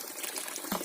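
Water trickles and gurgles steadily from a small stream at the source of the Dniester river, close by and fairly soft, in a short burst with no voices.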